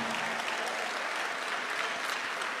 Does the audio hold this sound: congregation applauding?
yes